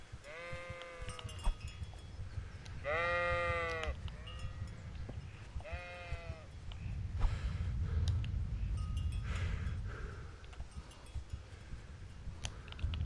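Sheep in the medieval game Kingdom Come: Deliverance bleating several times in quick wavering calls, close and clear, over a low ambient background with some footsteps and movement.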